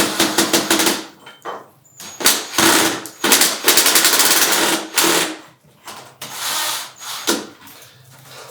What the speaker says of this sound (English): So I'm gonna screw one into one of the holes, hinge holes